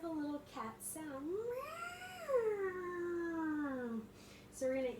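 A person imitates a cat during a yoga cat pose, giving a long rising and falling meow-like wail close to the listener, with short vocal sounds before and after.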